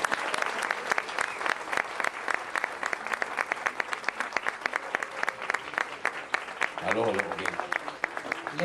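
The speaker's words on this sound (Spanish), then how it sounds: "El aplauso de todos ustedes." An audience at La Siembra del Cuatro 2013, a cuatro music contest, breaks into applause, rhythmic sharp claps continuing steadily, with a voice briefly rising over them near the end.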